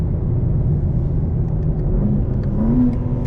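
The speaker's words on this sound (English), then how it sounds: "I'm going to turn the exhaust off, and you can notice an immediate drop in noise." A steady, muted engine drone from a 2024 BMW M4 Competition xDrive with the exhaust valve closed, with a deep low rumble and only a slight rise in pitch, heard close with no talking.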